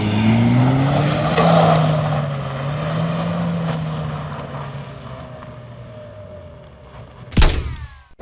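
A car drifting sliding along near a canal, with a loud engine rising and falling in pitch and a sharp thump near the end, with no talk.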